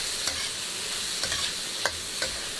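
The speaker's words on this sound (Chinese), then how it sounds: "然后加上葱姜蒜、干辣椒和一个八角，淋上黄酒和生抽，呛出香味。" Scallion, ginger, garlic, dried chili and star anise stir-fry in rendered pork fat in a wok, giving a steady soft sizzle broken by a few sharp spatula scrapes, close and without voices.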